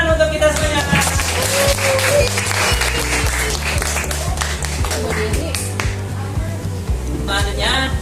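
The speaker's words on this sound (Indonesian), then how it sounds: "Tepuk tangan untuk kita semuanya." A classroom of elementary pupils claps together in brisk, rapid bursts, loud and close, with voices calling out over the clapping throughout.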